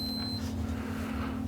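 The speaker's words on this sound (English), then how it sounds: "beeping is a voltometer telling me that I've got conductivity" A steady continuity beep from a meter testing an Ameritron AL-811H amplifier under repair, a single sustained high tone that cuts off early, over a constant low electrical hum.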